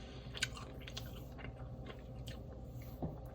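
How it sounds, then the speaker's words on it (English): Close, crisp crunching bites on charred, pan-fried TikTok-style ramen noodles, several irregular chews and crackles heard quietly and alone without talk. "I recommend you char the noodles a little bit, just like I did. I love that crunch."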